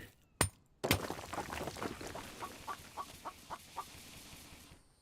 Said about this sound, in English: Chicken's over there trying to taunt me.